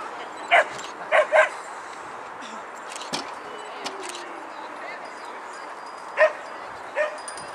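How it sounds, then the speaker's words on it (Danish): A happy dog at an outdoor dog show yips and barks in a few short bursts near the start and twice more later, with people talking in the background. "Det er sådan en glad hund, ikke?"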